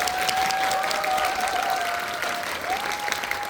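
In a Megabox COEX cinema hall, an audience at a director's talk after a screening of the film Exorcism Chronicles applauds in a steady, full round of clapping, with a faint tonal hum beneath it.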